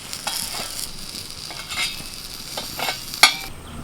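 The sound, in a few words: frying banana-leaf-wrapped banana flower paturi, turning it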